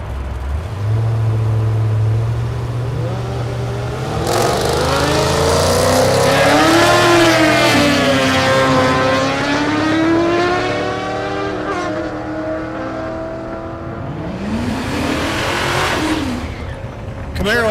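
A Chevrolet Camaro F-body launching down a drag strip at Thunder Valley in Noble, Oklahoma: a loud engine revs and climbs through rising, wavering harmonics, then a second burst follows, with announcer talk mixed in.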